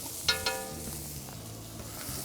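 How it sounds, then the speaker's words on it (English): Onions sizzle steadily in a hot pan, a soft continuous crackle with a couple of brief clinks of a utensil early on. "Those onions are kicking off the flavor. You can hear them sizzling."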